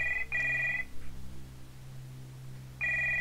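A telephone rings in the video game Stories Untold: two short bright bell bursts, a long quiet pause over a low hum, then another ring at the end, moderately faint.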